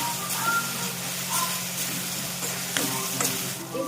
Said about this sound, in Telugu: ఆ పచ్చివాసన పోయే వరకు మంచిగా ఫ్రై చేసుకోవాలి